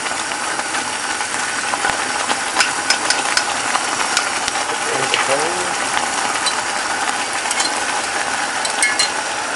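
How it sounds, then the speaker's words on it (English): Gravy being whisked in a pan, a constant close rattling scrape of the whisk with a faint hissing bubble beneath it. "Just make sure you give that a really nice whisk"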